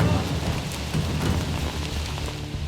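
Heavy rain pours in the French Guiana jungle during a storm, a dense unbroken hiss with low thunder rumbling underneath, loud and constant throughout.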